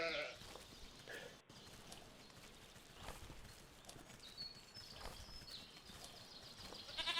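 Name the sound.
sheep bleating in a video game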